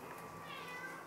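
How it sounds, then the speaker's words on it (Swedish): A cat meows softly indoors in a home setting, one drawn-out faint call with no talking over it. "Är du finaste katten?"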